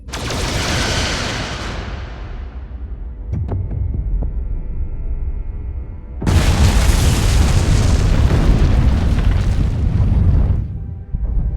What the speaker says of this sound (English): Destroy the vault. Aye, Captain. Firing photon torpedoes.